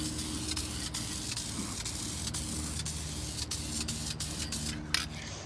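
A glossy black coat being sprayed onto a primed, previously rusting running board, a steady close hiss running throughout with brief bursts and a small clatter near the end, no voices.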